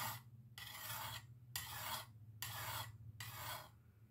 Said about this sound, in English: We're going to file that edge back on there.